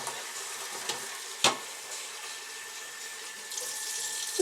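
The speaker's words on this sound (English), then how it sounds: "Wash your rice, get the white flour out" Rice being washed under a running kitchen tap: a steady hiss of water pouring into a bowl with a brief splash or clunk partway through, close and continuous with no voices.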